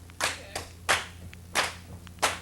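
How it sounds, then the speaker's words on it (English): An audience at a songwriters showcase claps along to a tune, four or five sharp, evenly spaced claps roughly every two-thirds of a second, clear and moderately loud with no talk. "It'd be cool if you guys would clap along on this tune"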